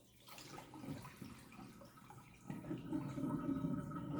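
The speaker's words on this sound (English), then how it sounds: "I'm letting all the water out of them." Water draining out of freshly rinsed collard greens in a kitchen, a soft trickling and dripping that grows into a steadier splashing flow partway through.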